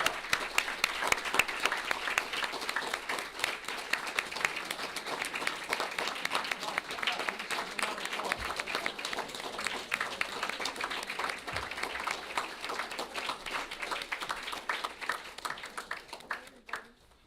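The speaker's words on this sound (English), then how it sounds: "let's give them a round of applause" A township business meeting audience gives a round of applause for the Township Committee, a long, sustained burst of many hands clapping that fills the room and tapers off at the end.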